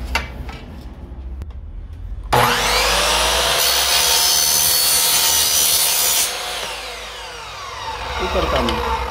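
Saw cutting an aluminium profile at 45 degrees for a frame corner, a loud, steady, high-pitched metallic grinding that starts abruptly and holds for several seconds before easing off, with a voice briefly heard beforehand.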